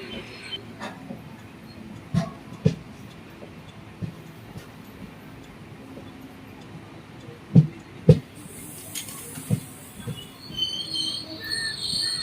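An Ernakulam–Velankanni Express train pulls into Kayamkulam railway station, a low rumble of rolling wagons broken by sharp, irregular metallic clanks and bangs, with a faint wheel squeal near the end.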